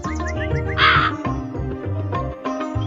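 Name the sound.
crow cawing in the Meena video game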